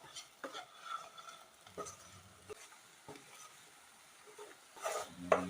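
Spiced potato fry being stirred in a pan, a faint low sizzle under a few scattered scrapes and clinks of a spoon against the metal, quiet and close with gaps between strokes and no talk.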